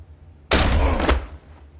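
A gunshot in The Walking Dead video game as Lee shoots Kenny: one sharp, loud blast with a booming, ringing tail that quickly dies away, heard alone.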